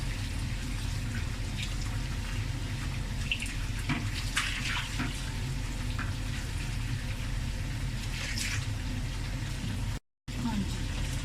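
Eggs hit hot oil in a pan and sizzle in a steady, close hiss that runs unbroken for most of the stretch, with someone talking over it.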